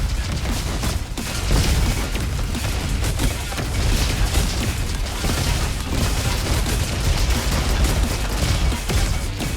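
Dense, continuous barrage of heavy gunfire and booming blasts from the flat cannon in the FPS game Roboquest, loud and sustained with no pauses.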